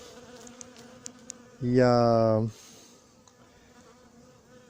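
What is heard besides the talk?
bees buzzing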